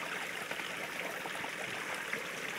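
Spring water from a river source runs and trickles steadily over stones, a continuous close babbling flow with no voices.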